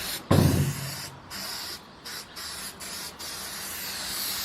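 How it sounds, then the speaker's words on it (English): An aerosol spray can hisses in several bursts onto a car roof, close and fairly loud, with short pauses between sprays. "It's kind of hard because it's like in a can and we're spraying the roof."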